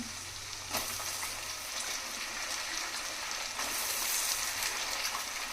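Brinjal pieces go into a fish curry frying in a pan, with a continuous close sizzle and a couple of soft thumps as they drop in, the frying swelling slightly louder afterward.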